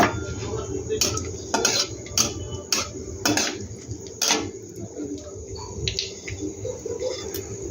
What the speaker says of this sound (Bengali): ওদের এই তেলে আমি রান্নাটা করব। দিয়ে দিলাম কিছু গোটা গরম মশলা